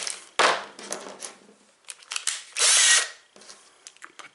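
A power drill driving screws whirs in several short bursts, with one longer sustained run near the middle, interspersed with brief clicks and handling noise.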